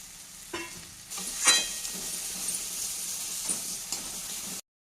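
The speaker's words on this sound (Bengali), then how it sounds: "এদিকে মাটনটা এখন মশলা কষানো হচ্ছে" Mutton cooking down with spices and tomato in a pan at home, a continuous close hiss and sizzle with scraping stirs and a few clinks, stopping abruptly near the end.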